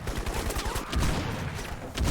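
Gunfire in the shooter game Crysis, rapid bursts of automatic shots with booming low thuds layered in a busy combat soundscape, moderately loud and continuous.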